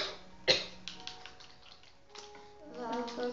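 A person coughs sharply once near the start, followed by a few fainter coughs and throat noises, with a voice speaking quietly in the background.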